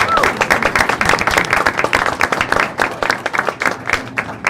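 Audience at a school board of education meeting applauding a tenure approval, with sustained, loud, dense clapping filling the room from start to finish, a few voices mixed in.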